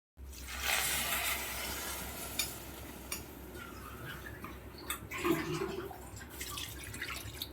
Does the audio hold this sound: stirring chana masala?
yes